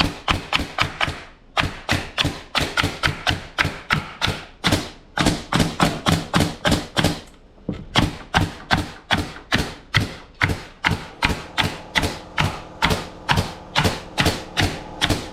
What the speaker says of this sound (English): And this will shoot blank, so after you're done, you'll just get blank shot out of it